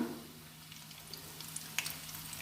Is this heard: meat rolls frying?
yes